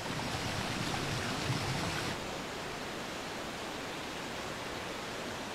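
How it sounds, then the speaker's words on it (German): Glacial meltwater streams pour from the crater of Mount St. Helens as a steady, broad rushing wash, louder in the first couple of seconds, then slightly softer and even, with no voices. "Die Gletscherbäche, die aus dem Krater fließen, versorgen das Land am Fuß des Vulkans mit dem dringend benötigten Wasser"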